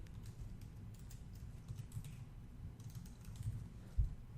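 Someone types on a computer keyboard while entering an HTML comment, producing a quiet, continuous patter of key clicks with a slightly sharper tap near the end.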